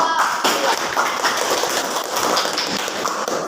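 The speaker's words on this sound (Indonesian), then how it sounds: "beri tepuk tangan untuk kelompok 2" A junior high school mathematics class applauds group 2, a brisk, continuous patter of many hands clapping close by that lasts a few seconds.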